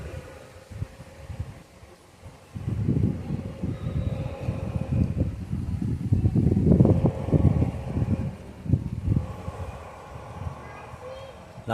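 Gusty wind buffets the microphone outdoors by the Hulimavu cave Shiva temple on Bannerghatta Road, Bangalore, a low rumbling roar that swells from faint to strong and keeps surging for several seconds, with a voice talking in the background.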